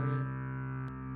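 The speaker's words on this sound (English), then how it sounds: "Sounds like a bass distortion" Sustained synth drone pad built in Ableton, thick with bass distortion: a steady, harmonically dense tone that holds through, with a brief click near the end before the drone continues slightly thinner.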